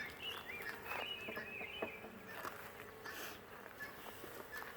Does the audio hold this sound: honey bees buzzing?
yes